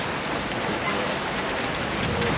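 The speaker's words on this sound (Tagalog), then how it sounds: "habang umuulan" Rain falling steadily outdoors while people dig in the soil, a dense, even hiss of downpour that fills the clip at constant loudness.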